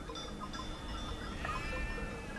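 A flock of about 300 sheep bleats in an open wild pasture, faint distant wavering bleats layered over steady broadband outdoor noise.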